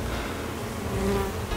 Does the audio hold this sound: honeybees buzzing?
yes